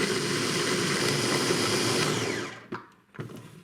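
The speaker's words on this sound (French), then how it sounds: "Et enfin, nous allons mixer le tout." A kitchen blender whirs steadily while pureeing fruit into a smooth purée, a loud constant motor drone that cuts off near the end, followed by a couple of faint clicks.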